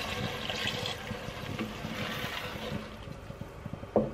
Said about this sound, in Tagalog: And now, dadagdagan ko ng tubig.